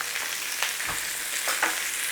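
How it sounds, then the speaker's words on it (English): Onions are stir fried in a pan over medium heat, a constant bright sizzle with a few scraping stir strokes, close and alone without talk. "a quick stir fry around"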